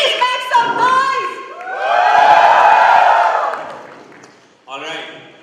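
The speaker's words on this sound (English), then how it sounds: "Ladies and gentlemen, please make some noise!" An audience at a digital freelancer summit cheers and whoops in a swelling roar after a presenter's voice, then fades back to speech.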